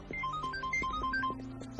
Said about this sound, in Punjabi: ਓਏ ਗਿੱਲ ਸਾਹਿਬ ਦਾ ਫੋਨ